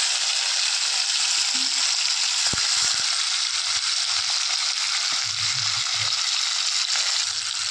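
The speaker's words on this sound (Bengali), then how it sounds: "প্রথমে এই তেলে মাছগুলোকে ভেজে নেব। তেল গরম হয়ে গেছে, মাছগুলো দিয়ে দেবো।" Puti fish fry in hot oil in a wok, a steady loud sizzle with a few sharp crackles and spatters, and faint clinks of utensils near the end.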